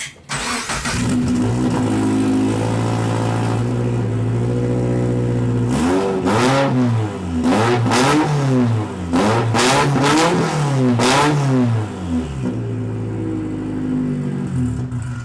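A turbocharged Scion FR-S drift car's exhaust revs repeatedly, rising and falling in several sharp bursts over a steady idle, loud and close with no talking.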